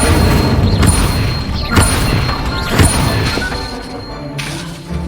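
Incendio fire spells cast in Hogwarts Legacy, a series of loud whooshing, crashing bursts at roughly one-second intervals over busy game sound.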